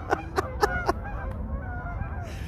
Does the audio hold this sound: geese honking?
yes